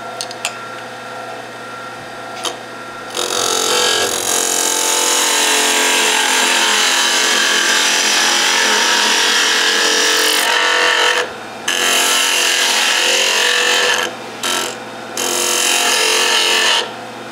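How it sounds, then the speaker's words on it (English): A wood lathe undercuts the bottom of a small turned birdhouse ornament, giving a loud, steady rasping cut that runs for long stretches and is broken by a few brief pauses, with no talk. "we will now undercut the bottom."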